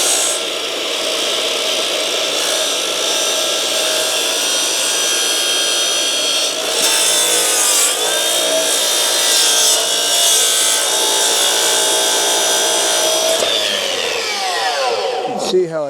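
Wood being sawn for a deck stair stringer, a steady, loud and continuous cutting rasp running close by for most of the stretch before winding down near the end.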